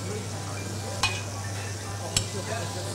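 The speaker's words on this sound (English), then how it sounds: "You want to pan fry the squid?" Squid (sotong) pan frying in a hot pan: a steady close sizzle runs throughout, with two sharp clacks of a spoon or pan about a second apart.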